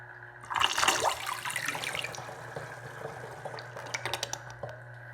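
A mini toilet with a mid-mounted tank flushes, a loud rush of water swelling then tapering into trickling and refill noise with some clicks, close up.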